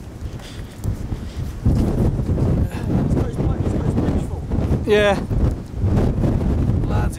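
Strong wind buffets the microphone beside old masonry walls of a citadel in Calais, a loud continuous rumbling roar with gusty surges, while someone speaks briefly and a short squeal rises midway.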